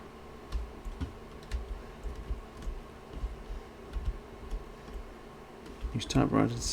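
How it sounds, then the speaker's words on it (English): A typewriter at a save point in the Resident Evil Village video game clatters in faint, uneven keystrokes over a steady background hum, ending in a louder, denser burst of clacks. "Use typewriter to save your progress"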